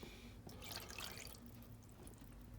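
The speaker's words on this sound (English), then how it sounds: "I'm going to put the fresh seawater on them." Fresh seawater poured over fishing worms in a container, heard as a steady wet splashing and dripping that runs throughout, close and moderately loud, with no voices.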